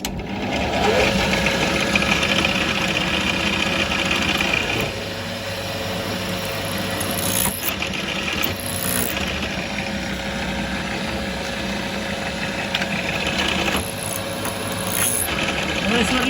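A drill grinds steadily into a metal die at close range, a continuous whirring, rasping drone that shifts slightly in pitch now and then.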